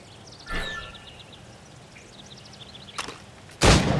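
Shots at targets in Assassin's Creed Rogue, heard as a few sharp impacts spaced apart with a louder final burst, over faint ambient birdsong and background noise.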